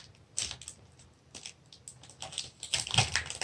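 Crinkling and tearing of plastic wrapping on a Pokémon card pack from a Charizard Elite Trainer Box, soft and close, with irregular crackles building in intensity toward the end, no talking.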